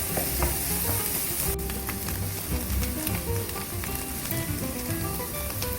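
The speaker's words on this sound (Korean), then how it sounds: "스크램블 에그를 재료와 잘 섞고 준비해둔 밥을 넣고 한 번 더 섞어주세요." Rice and scrambled egg stir-fried together in a hot pan for pineapple fried rice, with steady close sizzling and frying crackle plus scraping and tossing sounds throughout.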